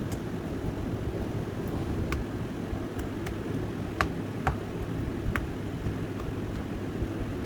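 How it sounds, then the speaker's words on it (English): Silicone mold filled with a white cement and jesmonite mix being tapped to release air bubbles, a sparse series of light, sharp taps over a steady low hum. "I'm going to tap it now."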